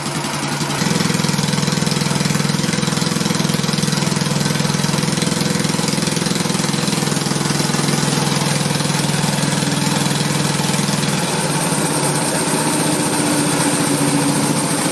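A car engine running loud and close inside the vehicle while driving, a steady droning rumble that holds for the whole stretch with a slight rise in pitch late on.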